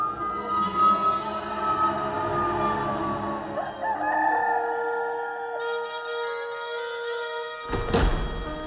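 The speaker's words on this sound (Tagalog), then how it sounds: "at noon din ay tumilaw ang manok." A rooster crows a long, drawn-out call, loud and clear, followed by a dull thump near the end.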